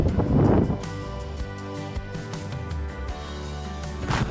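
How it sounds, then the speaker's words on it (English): Strong wind buffets the microphone on a coastal hiking trail at Año Nuevo State Park, a loud, continuous roar with heavier gusts at the start and end and no voices. "it's crazy windy today"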